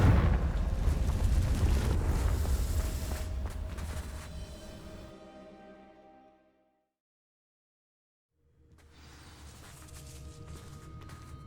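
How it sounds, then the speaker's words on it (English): A fire spell ignites dry vines in Hogwarts Legacy, a loud roaring, crackling whoosh that fades into several seconds of silence before low ambient rumble returns. "These dry vines are one spark away from becoming kindling. Confringo!"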